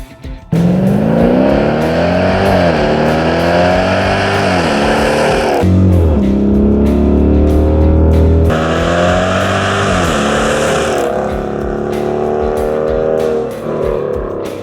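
A 2011-2020 Dodge Durango 5.7-liter V8 fitted with a TIG-welded 304 stainless catback exhaust revs loudly and steadily, its pitch climbing and falling through repeated throttle blips, with a deep low idle burble in a brief gap midway.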